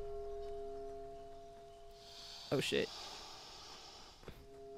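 A swan hisses in a video game, a short harsh burst near the middle over steady game music tones, with a spoken exclamation in the clip.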